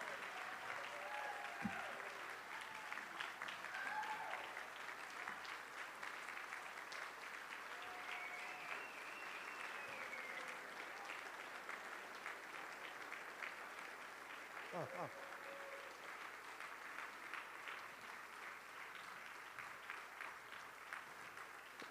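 A gala audience applauds after a performance, with steady crowded clapping held at a soft, distant level for a long stretch while a voice speaks briefly over it.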